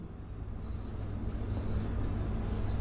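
Chalk or marker scratching steadily across a board during a chemistry lesson, a continuous rubbing sound that holds fairly even and slightly builds, with no speech over it.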